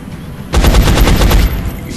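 A soldier fires on a floater alien in XCOM: Enemy Unknown: one loud, rapid burst of automatic gunfire runs for about a second, then fades into a lingering rumble, with no talking.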